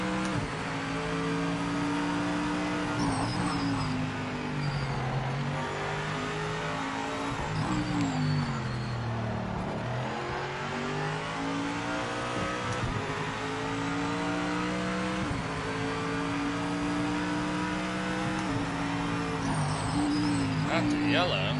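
A Porsche GT3 race car in a racing video game revs continuously, its engine pitch rising and falling through gear changes, loud and close, with someone talking over it.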